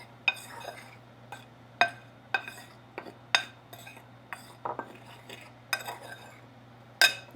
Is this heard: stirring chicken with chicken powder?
yes